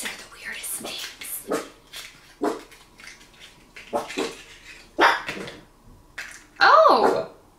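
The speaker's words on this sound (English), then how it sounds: "Somebody just started the car outside, so the dogs are gonna be barking." Dogs bark outside in scattered, sharp bursts after a car starts, some yelps near and loud, mixed with a person talking intermittently indoors.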